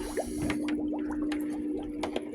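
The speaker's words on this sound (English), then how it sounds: "And then you just drop the pool pump into the cooler" A pool pump splashes into a cooler of water during home brewing, giving close, wet dripping and sloshing sounds with a steady faint hum underneath.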